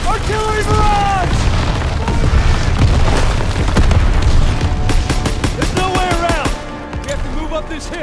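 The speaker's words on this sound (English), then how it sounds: "Artillery barrage!" Artillery barrage in Call of Duty WWII on Hill 493, heavy booming explosions and rumbling blasts rolling continuously, with rapid gunfire bursts and shouting soldiers mixed in.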